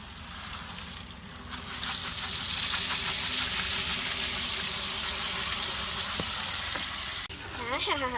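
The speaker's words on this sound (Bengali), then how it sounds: "এখন আমরা এখানে চাল দিয়ে দিব বিরিয়ানি রান্নার জন্য" Rice tipped into a pot for chicken biryani, set against a steady loud sizzle that fills the pot, with a few short clinks and a brief scrape near the end.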